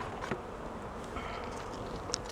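Honeybees buzzing around an open hive during frame inspection, a faint, dense, continuous hum with occasional louder individual bees passing close, and no speech.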